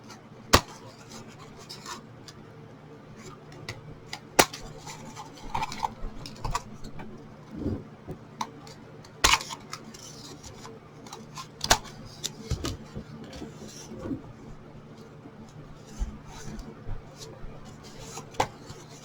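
Sharp clicks and snips of scissors trimming the protruding edges off a homemade embossing folder, spaced irregularly across a quiet room with no talking.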